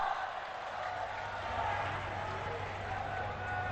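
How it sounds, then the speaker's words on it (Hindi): An audience at a development project inauguration ceremony in Varanasi applauds in a sustained, even wash of clapping, a moderately loud and steady crowd sound with a faint low hum beneath it. "आप सबकी शुभकामना रूपी तालियों के साथ"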